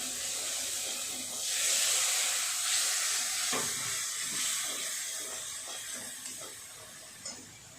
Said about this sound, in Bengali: সমস্ত মশলা একটু জল দিয়ে ভালো করে কষিয়ে নেব